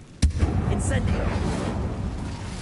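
A fire spell cast in the video game Hogwarts Legacy bursts out as a sharp, loud crack, then settles into a rumbling, crackling roar that carries on for a couple of seconds.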